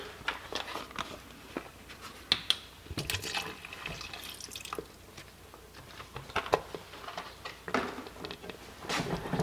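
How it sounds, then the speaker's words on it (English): Liquid poured into a pot of cooking cornmeal porridge (polenta), giving an uneven splashing and trickling patter with brief louder bursts, close by and moderately quiet, with no talking. "Alright, add some more fluid."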